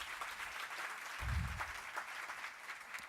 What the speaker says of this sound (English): one more round of applause for all of our speakers this morning.